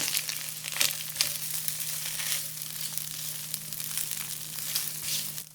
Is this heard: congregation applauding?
no